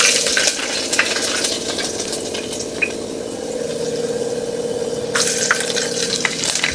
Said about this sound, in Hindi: तो अभी हम लोग लहसुन डाल देंगे।